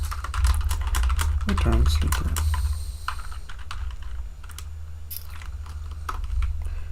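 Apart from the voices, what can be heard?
typing on a quiet computer keyboard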